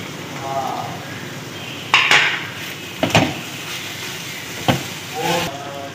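Chicken filling stirred with black pepper and spices in a pan, giving several sharp metallic scrapes and clinks of a spoon against the pan over a low sizzling hiss, with no voices.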